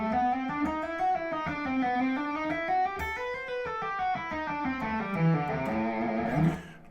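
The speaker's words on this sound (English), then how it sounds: "this is just a legato phrase that goes through both positions" A smooth, flowing electric guitar legato pentatonic phrase of connected notes rising and falling, moderately loud and played alone without any talking.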